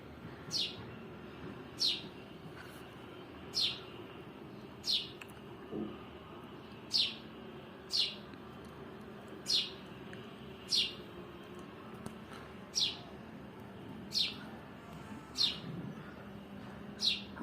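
Short, sharp sparrow chirps repeated about once a second at a steady rhythm, close by, over a quiet room background.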